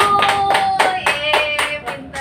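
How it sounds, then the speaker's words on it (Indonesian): Children clapping together in a classroom for a group of classmates, a loud close burst of rhythmic claps in quick succession with a few tonal voices mixed in. "Tepuk tangan kelompok 1"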